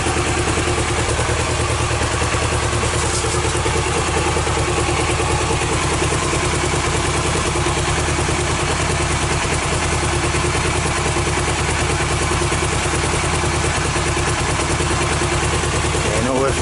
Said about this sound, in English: Starts up and ticks over right now as well.